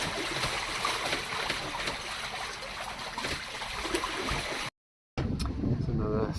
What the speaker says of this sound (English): That little wave at the back is the noisiest thing that you hear. You don't hear the engines at all.